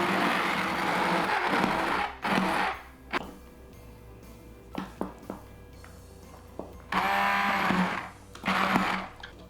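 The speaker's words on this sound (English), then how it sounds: "Just put it, by cupfuls into your blender." Blender pureeing hot corn chowder by cupfuls, several loud whirring bursts of a few seconds each separated by quiet pauses with clinks and handling noises.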